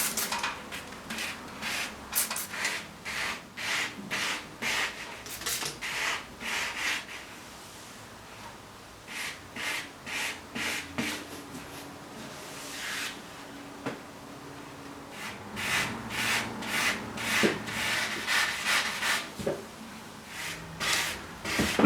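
Sandpaper rubs by hand in quick back-and-forth strokes over paint runs on a motorcycle tank, rhythmic scratchy bursts in several runs with short pauses between, close and moderately loud, no speech.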